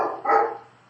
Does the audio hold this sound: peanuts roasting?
no